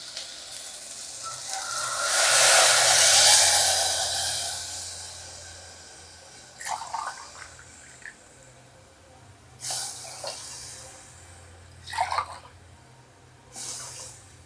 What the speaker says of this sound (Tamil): அதுக்கு நான் 3 கப் தண்ணி சேர்த்துக்கிறேன்.